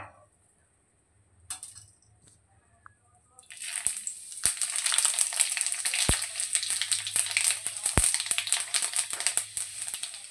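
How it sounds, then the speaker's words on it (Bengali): Four dried red chillies and panch phoron hitting hot mustard oil: after a quiet start and a few small clinks, a dense loud crackling sizzle with sharp pops runs close and steady to the end. "তেল গরম হলে দিয়ে দেব 4টা শুকনো লঙ্কা, কিছুটা পরিমাণ পাঁচফোড়ন,"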